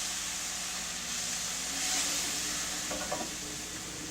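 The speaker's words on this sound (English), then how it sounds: "I'm going to pour in a ½ cup of milk and stir this all together until it's all nice and melted and creamy" Cream cheese and milk being stirred together in a hot pan, a soft continuous sizzle with scraping spoon strokes that grow busier near the end, close and fairly quiet.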